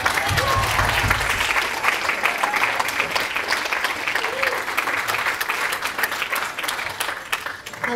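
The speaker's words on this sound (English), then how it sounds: "Big round of applause" Audience applause for the kids at a music gala, a loud, dense wash of clapping that fills the hall steadily for the whole stretch, with faint crowd murmur underneath.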